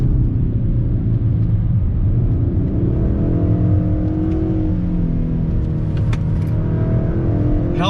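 A 2021 Kia K5 GT sport sedan with an 8-speed dual-clutch transmission accelerates hard, its engine note climbing and shifting pitch as it changes gears under steady, loud road rumble.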